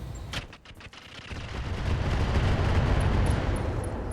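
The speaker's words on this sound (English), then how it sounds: "We're going to fire at this thumper turret." Mech weapons firing at a thumper turret in RogueTech, a few sharp cracking shots at the start followed by a sustained, heavy low rumble of impacts and explosions that builds and holds loud to the end, with faint high electronic beeps.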